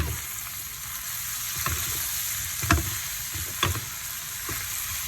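Crab meat and glass noodles stir-fried with chili paste and a little sugar in a hot pan, a steady close sizzle with occasional scraping stir strokes and clinks.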